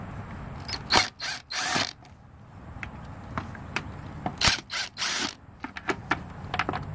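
Ratchet wrench clicking in short bursts while bolts are backed out on a Kawasaki Brute Force 650 V-Twin ATV, several separate ratcheting runs with pauses between, close and fairly quiet.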